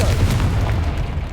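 A Confringo spell explodes in Hogwarts Legacy, a loud, deep, rumbling boom that fills the whole moment and fades slightly at the end.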